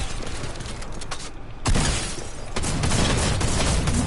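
Gunfire from a drum shotgun in a video game, a few heavy blasts with the loudest sharp burst near the middle, followed by dense continuing combat noise.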